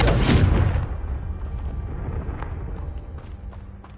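A Confringo blasting spell from Hogwarts Legacy bursts loud and close, a heavy boom that rolls into a long rumbling decay, with faint crackles trailing off.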